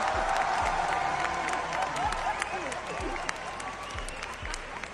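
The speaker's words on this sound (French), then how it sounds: "Et tout le monde applaudit." A large audience applauding steadily, dense clapping throughout with a few scattered louder claps standing out from the crowd.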